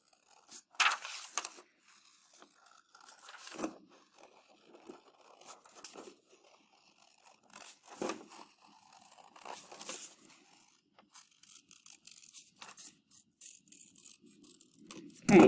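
Scissors cutting out a section of a paper mandala, heard as soft, intermittent crisp snips and rustling crinkles of paper, close and fairly quiet, with no talking.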